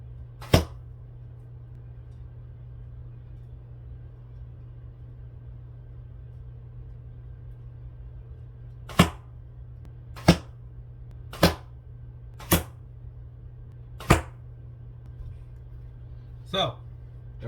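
Arrows loosed from a bow strike near the target down range: one sharp impact, a long pause, then five more sharp cracks in fairly quick succession and a softer final hit, all over a steady low hum.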